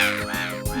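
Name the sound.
crows cawing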